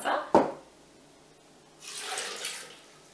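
Water poured into a Thermomix mixing bowl over chopped rhubarb for juice, a brief clatter followed after a pause by a soft, steady rush of pouring liquid lasting about a second.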